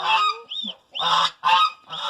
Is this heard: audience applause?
no